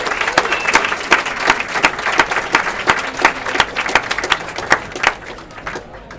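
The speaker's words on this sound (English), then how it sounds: "please give them a round of applause for hosting us" An audience at a talk in Sydney applauds the pub hosts, with dense, even clapping that carries on for several seconds and gradually thins out.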